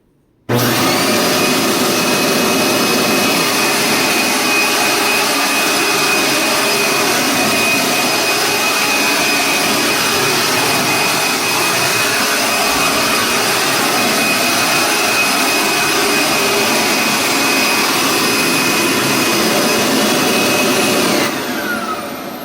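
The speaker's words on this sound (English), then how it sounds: "You're going to hear it stalls as soon as I put it on the carpet" A Dirt Devil Extra Light bagless upright vacuum with a worn belt and worn brush roll switches on abruptly and runs with a loud, steady whine and roar close by, then cuts off near the end.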